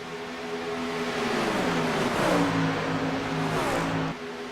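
Stock race cars in a SilverCrown series event in Chicago roar around the track, with engines droning loudly and shifting pitch as the cars pass close by, the noise swelling in the middle and then easing off.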